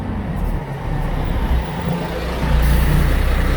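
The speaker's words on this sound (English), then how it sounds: "here comes 462, one of a handful of Bustech MDIs that operate with Surfside bus lines" A Bustech MDI bus of Surfside bus lines drives past close by, its engine rumbling steadily and growing louder toward the end.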